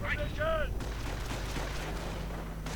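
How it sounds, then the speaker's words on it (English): Grenade explosion in a World War II strategy video game, a dull boom heard amid a steady wash of battle noise and gunfire, with a brief whistling tone at the start. "Grenade going off"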